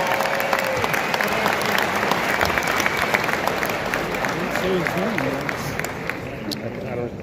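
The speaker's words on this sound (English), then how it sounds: "so I can hear what it sounds like to be applauded by thousands of people" Thunderous applause from thousands of attendees at a county political convention, a dense unbroken wall of clapping with crowd voices mixed in, holding strong and easing slightly near the end.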